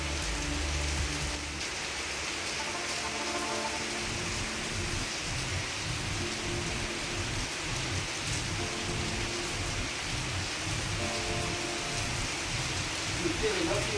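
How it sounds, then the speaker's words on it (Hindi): Heavy rain pours steadily in Lahore in a dense, continuous hiss, with low rumbling underneath and no pauses. "इधर तो माशाल्लाह बहुत ज़्यादा बारिश हुई है"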